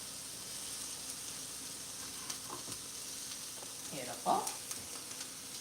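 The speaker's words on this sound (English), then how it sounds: "We can toss these guys in and let them start to saute." Peppers sautéing in a pan for birria tacos, a steady soft sizzle running throughout with a brief stir or clatter near the end and a short spoken remark over it.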